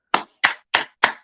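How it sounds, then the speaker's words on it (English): Four sharp hand claps in an even rhythm, close and crisp with clean silence between them, given for a birthday on a morning show. "So let's clap for her."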